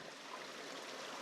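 Sawyer Brook flowing beside a mountain trail, a soft continuous rush of moving water, steady and fairly faint throughout, with no voices.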